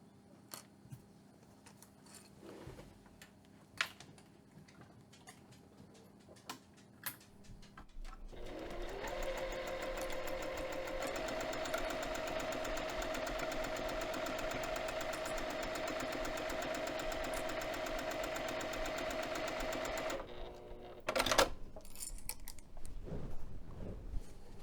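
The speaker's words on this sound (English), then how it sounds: "we're going to stitch this lower edge using 1/8 of an inch seam allowance" Light handling clicks and rustles come first, then a sewing machine stitches the lower edge of a bag side pocket for about twelve seconds in one steady close run before stopping, followed by more handling noise.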